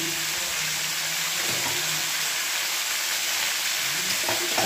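Cauliflower florets frying in a pan for a Bengali vegetable curry give a steady, close sizzle throughout, with a few soft stirring scrapes near the end and no talk.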